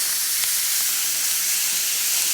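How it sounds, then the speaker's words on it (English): A flat iron steak sears in a hot cast iron pan, giving a steady, close, even sizzling hiss that holds for a couple of seconds with no voices. "So it's time to flip this steak over and sear this other side."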